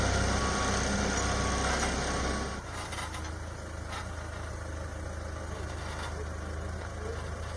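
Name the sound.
trucks hauling aircraft scrap away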